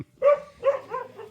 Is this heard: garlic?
no